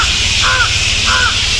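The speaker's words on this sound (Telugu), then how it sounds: "ఈ చెట్ల మధ్యలో నుండి పక్షుల చెప్పుడు ఎట్లా వస్తుందో వినండి ఒకసారి" Crows cawing among trees near Brahmagiri hill at the Godavari's source in Nashik, two clear caws a half-second apart over a steady background hiss, moderately near.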